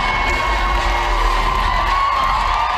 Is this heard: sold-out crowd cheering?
yes